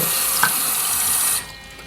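Water gushing from a tap onto an electric toothbrush during a waterproof test, a loud, steady hiss that stops abruptly as the faucet is turned off.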